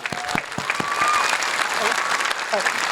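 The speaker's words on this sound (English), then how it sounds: "let's give them a round of applause right now" A crowd claps and cheers at an elementary school Memorial Day ceremony, honoring former service members, with steady applause throughout and a few whistles rising above it.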